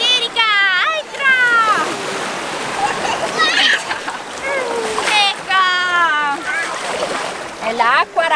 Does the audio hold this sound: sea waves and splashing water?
yes